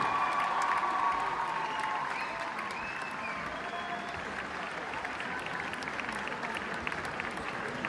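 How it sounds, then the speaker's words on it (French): Sustained applause and cheering from a large graduation audience in a Paris cinema hall, steady and dense throughout, with voices and shouts mixed into the crowd noise. "de les applaudir bien fort parce qu'ils vous ont accompagné pendant toutes ces années"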